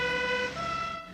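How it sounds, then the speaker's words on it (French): An ambulance siren sounds in a brief, fairly close wailing burst, its tone sliding partway through. "Une ambulance."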